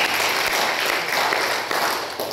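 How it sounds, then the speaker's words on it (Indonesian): A church congregation claps together in sustained, dense applause, loud and close, filling the whole moment without any voices over it. "Berikan tepuk tangan buat Tuhan."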